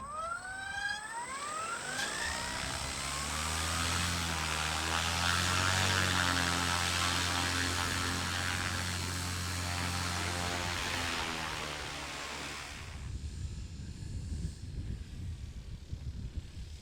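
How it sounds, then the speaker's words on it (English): An electric-powered quarter-scale model Spitfire Mk IXc flies past with a loud, steady whining drone that rises and falls in pitch, then fades away toward the end of the pass, leaving only faint outdoor background. "put the second, third and fourth flights on this Mick Reeves quarter scale Spitfire"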